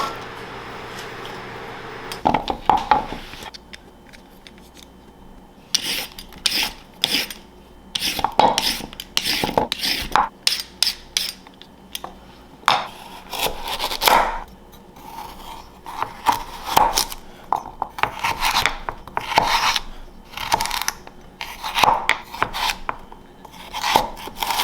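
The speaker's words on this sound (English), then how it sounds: "I'm going to just put the veggies in while I chop so I have less cleanup." Irregular knife chops on a board are mixed with clatters of vegetable pieces dropping into a Dutch oven, close and busy in a home kitchen, with pauses between bursts of cutting and no speech.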